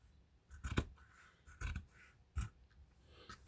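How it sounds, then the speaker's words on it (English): Sturdy dressmaking scissors cut through quilted pillowcase fabric in three crisp, separate snips spaced about a second apart, close and fairly quiet. "I've got dressmaking scissors"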